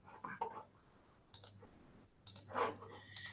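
Mouse clicks on an Apply button on a computer: quiet, close, sharp clicks in small clusters separated by short pauses, with nothing else heard.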